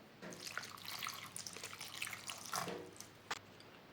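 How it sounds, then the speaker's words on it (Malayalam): Two tablespoons of water are poured into chopped ginger and garlic in a mixer jar, a faint, close trickling and splashing lasting a few seconds. "2 ടേബിൾ സ്പൂൺ വെള്ളം ഇതിലേക്ക് ഒഴിച്ചു കൊടുക്കാം."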